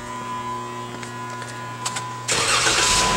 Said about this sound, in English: we're going to turn on the engine so you can hear it